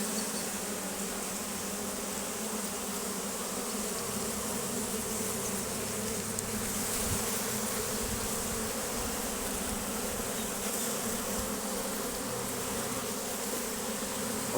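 Bees nesting inside an old rusty truck brake drum hum in a steady, soft, continuous buzz, with a faint low rumble of background noise and no talking.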